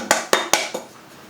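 Castella batter being mixed in a bowl for a rice-cooker cake, heard as four quick clinks of a utensil against the bowl, close and crisp.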